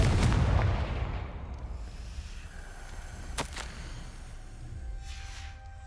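A Confringo blasting spell cast in Hogwarts Legacy bursts out as a loud, close explosive crack with a booming tail, followed by a couple of sharper pops amid rumbling game ambience.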